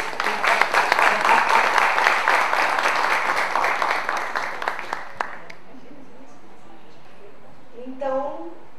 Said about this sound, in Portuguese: Palmas, né?